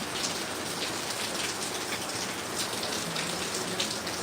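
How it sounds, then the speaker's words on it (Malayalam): Steady monsoon rain with a light wind pours down in Kozhikode, a dense, even hiss of drops on surfaces that continues unbroken at close range. "ഇത് കോഴിക്കോട് ജില്ലയിലാണ് ഇപ്പോൾ ഈ മഴ പെയ്തുകൊണ്ടേയിരിക്കുന്നത്"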